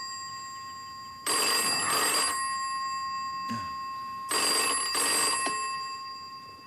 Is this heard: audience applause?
no